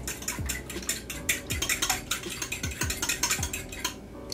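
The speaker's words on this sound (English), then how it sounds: "All right, so I'm gonna whisk it now." A fork or whisk clatters quickly against the sides of a bowl as eggs are beaten with pepper for breading mozzarella sticks, a close, busy run of rapid metallic taps and knocks with no voices.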